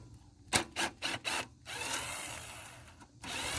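Bolts are removed from a Predator 212 small engine with a power tool, giving several short buzzing bursts followed by a longer rattling whir, close and moderately loud.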